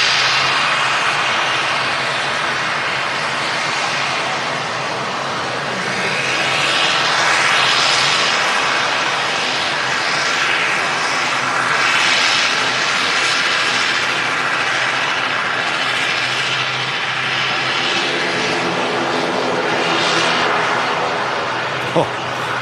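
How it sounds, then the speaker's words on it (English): Twin turboprop engines of an Aer Lingus ATR 72 drone loudly and steadily at an airport, a broad whirring roar that swells and shifts in tone over a long pass. "Sounding really nice, the ATR 72."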